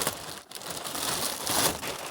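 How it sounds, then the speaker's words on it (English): Thin, weak plastic packaging is ripped apart by hand during a minivan camper bed build, giving a close, continuous crinkling tear that swells toward the end. "this plastic isn't too strong and I'm able to just rip right through it"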